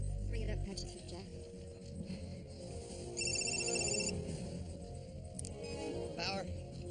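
Telephone ringing for an incoming call, a short electronic ring burst of about a second sounding over a busy room with people talking and some faint clinks.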